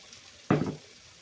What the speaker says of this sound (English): They tell me to pour the cup of water into the gravy jar after I've poured out as much as I can